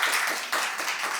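Applause for a father at a Brazilian book club podcast event, a brief steady wash of clapping throughout with no voices on top.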